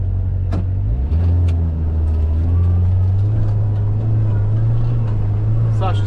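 A 2024 Kawasaki Ridge XR side-by-side crawling in low gear, its engine a loud, steady low drone heard from the cab with faint bumps and rattles, and a voice briefly audible over it.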